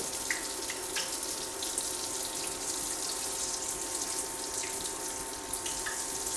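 Steady, close sizzling and crackling of a large beignet frying in hot oil, with occasional sharper pops over a constant hiss.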